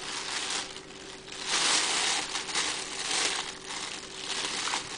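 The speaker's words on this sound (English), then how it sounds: "the plastic bags make the right noise, they're the right texture" Thin plastic bags crinkle and rustle continuously close by, swelling louder in bursts of handling with a baby nearby and no talking.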